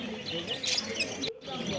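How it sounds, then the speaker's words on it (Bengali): Finches for sale at a bird market, zebra and other finches, twitter in a dense, continuous high chatter of small chirps beneath a voice, moderately close. "এখানে দেখো যে সুন্দর সুন্দর ফিঞ্চ পাখিগুলো আছে"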